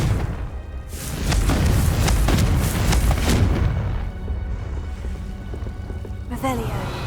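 A Confringo blasting spell detonates in Hogwarts Legacy, a booming, rumbling burst that swells early and rolls on for several seconds with crackling debris, followed by a quieter tail and a short sharp hit near the end, with voice nearby.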